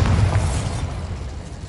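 A Bombarda spell explosion in the video game Hogwarts Legacy on PS5: one loud, low booming blast at the start that rumbles and fades over about a second and a half.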